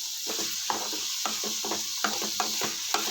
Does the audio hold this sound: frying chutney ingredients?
yes